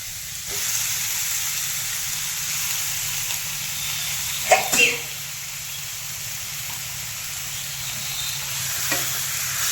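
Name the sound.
chicken added to hot pan, sizzling and stirring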